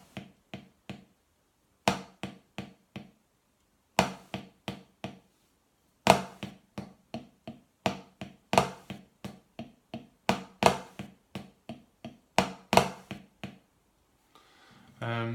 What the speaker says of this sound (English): it's a control stroke followed by a free stroke roll